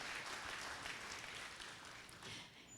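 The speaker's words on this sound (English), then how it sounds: "I think a round of applause is in order." An audience at an anniversary celebration for a government social welfare office applauds in a brief, continuous wash of clapping, fairly faint and distant throughout.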